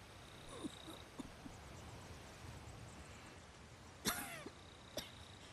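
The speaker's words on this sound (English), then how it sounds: "She's coughing." A woman coughs a few times in Ghost of Tsushima, short faint bursts spread out over a quiet background with soft ambient wind.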